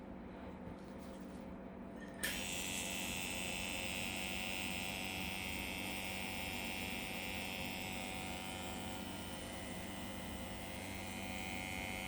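A Solong EM 138-1 rotary pen tattoo machine with a cartridge needle inserted switches on and runs with a steady, even whir, close and continuous after a quiet start.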